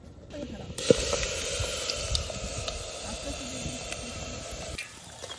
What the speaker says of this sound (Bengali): ম্যারিনেট করা এই যে মাছটা আমি এখন দিয়ে দেবো